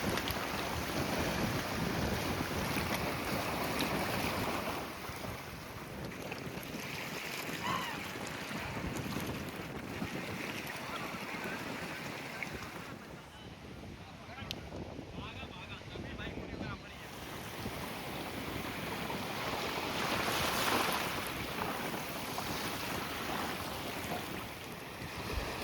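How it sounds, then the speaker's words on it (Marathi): Surf rolling onto Manori Beach on Manori Island in north Mumbai, a steady broadband wash of breaking waves mixed with gusty wind buffeting the microphone, continuous and fairly loud throughout with no voices. "मनोरी बीच हे उत्तर मुंबईतील मनोरी बेटावर असलेले एक शांत, निवांत समुद्रकिनारी असलेले ठिकाण आहे"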